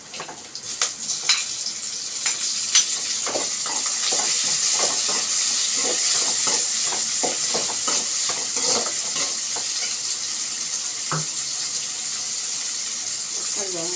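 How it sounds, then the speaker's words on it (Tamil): Tomatoes sautéing in a pan sizzle continuously, with repeated close scraping and stirring clicks throughout and a faint voice in the background. "தக்காளி போட்டுக்குவோம்."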